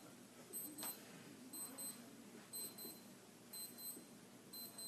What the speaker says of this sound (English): That's my alarm clock